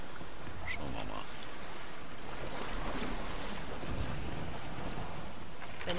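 A sailing ship cuts through sea waves in Assassin's Creed Odyssey, with a steady wash of water and wind, a few faint creaks and splashes across the whole stretch.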